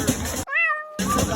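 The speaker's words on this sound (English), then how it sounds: "you'll hear a cat meow instead to keep their identity private" A single clear cat meow cuts abruptly into a stretch of talking, which resumes right after it.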